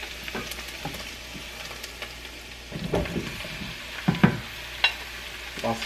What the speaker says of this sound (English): we're going to go right in with our mushrooms